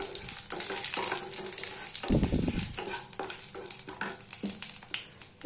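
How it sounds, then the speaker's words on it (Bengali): Dry red chillies, bay leaf and whole cumin crackle in hot oil, a steady sizzle layered with repeated spatula scrapes and a louder burst of stirring partway through. "এটাকে একটু নাড়াচাড়া করে"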